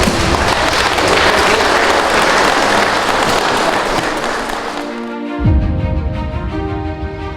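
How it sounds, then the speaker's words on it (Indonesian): Audience applause at the official opening of a modern and traditional noken competition, dense sustained clapping filling the space before giving way to a brief thump and a held musical tone. "Bapak akan tepuk tangan sama-sama."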